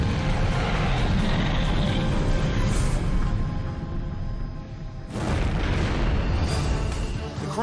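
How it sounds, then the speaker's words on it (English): A massive, sustained roar of a fuel tank explosion fills the whole clip, loud and rumbling, with a second surge of blast noise rising near the end. "the fire that led to this catastrophic explosion"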